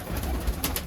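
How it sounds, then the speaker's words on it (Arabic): Iraqi pigeons coo briefly in a loft in Germany, a soft low murmur under faint background noise. "والله طيور هواي خير من الله"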